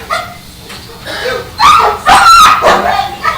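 A police canine barks and yips at a township council meeting, a few sharp close barks with whimpers in a room, and people talk nearby.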